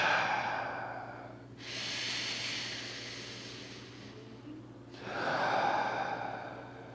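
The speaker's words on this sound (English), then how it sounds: "And breathing all that air into your chest." Slow, deep breaths drawn into the chest, a long airy inhale followed by a soft exhale and another full breath, close and quiet with no talking.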